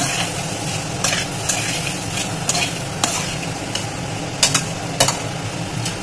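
Peas frying in spices with freshly added coriander leaves are stirred in a pan, giving a steady sizzle broken by scraping spoon strokes and a few sharper clinks against the metal, with no talking.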